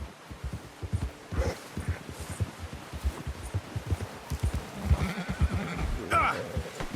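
A horse neighs and whinnies in Red Dead Redemption 2 while its hooves thud and shuffle repeatedly, with an agitated, struggling rhythm that is close and moderately loud.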